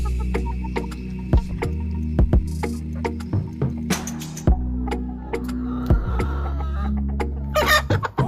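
Kienyeji chickens on a poultry farm cluck repeatedly in short, irregular bursts, close and loud. A steady low hum runs underneath, and a rooster crows briefly.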